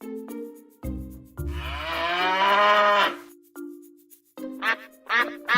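One drawn-out, loud bovine moo rings out early on, followed by a person's counting voice in short bursts.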